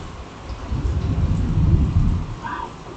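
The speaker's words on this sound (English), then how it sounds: "With this storm coming in, man, it's temperature drop." Rain falling steadily with low rolling thunder rumbling underneath as a storm moves in, continuous and moderately loud.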